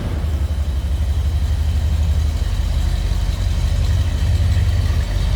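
A 1972 Buick Riviera engine with true dual exhaust and newer mufflers idles steadily with a deep, even rumble, loud and close, with no other sounds.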